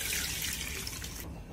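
Water poured into a pot for ghee rice, a steady splashing stream that stops abruptly near the end.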